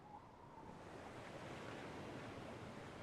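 Ocean waves in Anno 117, a soft, continuous surf wash with faint wind, distant and quiet, with no voices.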